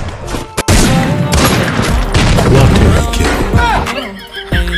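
Gunfire in a shooting video game, with loud dense bursts of rapid shots and booms that blend into a near-continuous barrage, plus a sharp blast near the start and scattered shots trailing off at the end.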